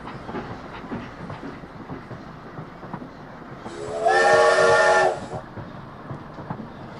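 A steam train whistle blows once for about a second over a steady chugging, hissing rumble of the train in a game.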